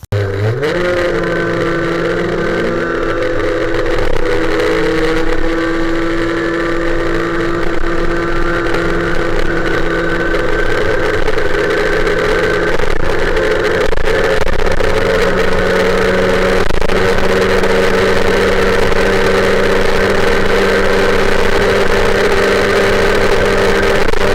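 A loud, high-revving MBK 51 moped with a Bidalot G2RR engine and modified exhaust screams close by, its two-stroke whine rising through the gears and holding a sustained buzz at speed.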